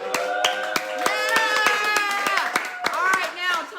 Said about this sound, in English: Big round of applause for Lala